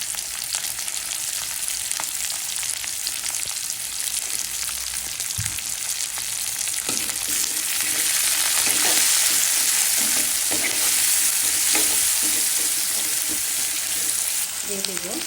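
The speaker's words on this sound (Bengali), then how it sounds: "দিয়ে দিলাম রসুন, একটু লাল করে মশলা দিয়ে দিলাম, পেঁয়াজ, কাঁচামরিচ ফালি, দিয়ে দিলাম লবণ" Garlic, spices, onion, sliced green chili and salt frying for a cauliflower, bean and potato bhaji, with a loud continuous sizzle close up and occasional stirring scrapes and taps in the pan.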